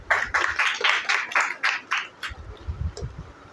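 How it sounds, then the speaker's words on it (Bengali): A fourth-grade classroom of students applauding a classmate for her weekly test result, with a short burst of lively clapping that quickly thins out to a few scattered claps. "রোহানির জন্য একটা হাততালি দাও"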